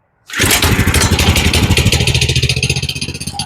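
A cold GoPowerSports Lifan 212 small engine, on full choke, catches and starts with a loud close putter that settles into a steady, slightly uneven chugging idle.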